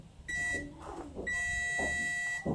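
Multimeter buzzer beeping during a continuity short-circuit test on a portable mini speaker: two steady high-pitched electronic tones, one short and one longer, with faint handling clicks in between.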